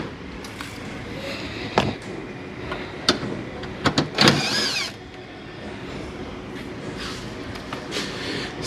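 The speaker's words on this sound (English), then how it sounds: "And now we gotta remove this 10mm that hold the bumper right there." Someone works at a 10mm bolt holding the bumper on a Nissan Altima, with close ratcheting clicks and a brief whirring burst of a tool amid scattered metallic knocks.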